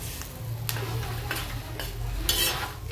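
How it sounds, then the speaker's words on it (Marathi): Green chillies stir-frying in a pan for a tangy stuffed chilli dish, with continuous soft sizzling and several scraping stirs of a spoon against the pan, close and moderately loud. "आता आपल्या सगळ्या मिरच्या व्यवस्थित अशा परतलेल्या आहेत"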